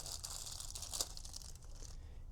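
Crinkly plastic rustling and tearing as a small plastic bag holding a Fisker Ocean key fob cover is opened, a steady close-up crackle with one sharper rip partway through, no voices.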